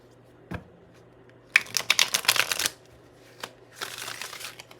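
Tarot cards are shuffled by hand in quick riffling bursts, a single tap then two rapid flurries of papery flicks, close and crisp with no voices.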